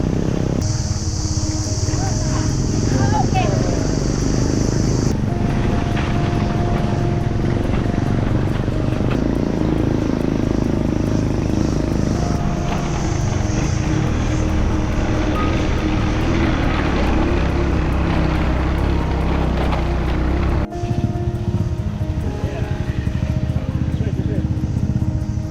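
Motorbike ride home through the Lombok countryside after a waterfall trek, the engine droning steadily and close for the whole stretch with wind rush and road noise, a brief high whine early on.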